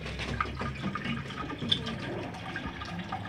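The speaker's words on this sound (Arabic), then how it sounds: "بعد كده هنحط عليهم المية وندوبهم جيدا اهو" Water poured into a drinking container over medicine powder, a faint, steady trickling and filling sound with small splashy bursts, heard quietly without talk.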